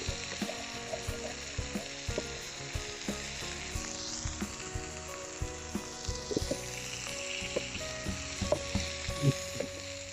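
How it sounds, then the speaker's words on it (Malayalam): Chopped shallots sizzle steadily in a hot pan for a fish mappas, with repeated scraping and clacking of a spoon stirring them, close and fairly loud with no talk. "ഒരു 3/4 കപ്പ് ചുവന്നുള്ളി അരിഞ്ഞത് ഇത് നന്നായിട്ട് ഇളക്കി കൊടുക്കുക"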